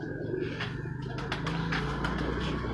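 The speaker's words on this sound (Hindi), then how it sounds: "आज हम आपको राना सफदर के कबूतर परवाज़ी कबूतरों का शौक़ कराएंगे।" Soft coos of pet flying pigeons on a rooftop repeat in low murmurs over a steady outdoor hum, with faint chirps and distant traffic.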